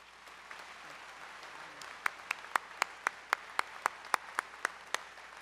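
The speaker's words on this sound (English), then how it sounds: "Please acknowledge our honorary degree recipient with a round of applause." Commencement audience applause for an honorary degree recipient at Springfield College, a soft crowd wash with a run of about a dozen sharp, evenly spaced close claps standing out.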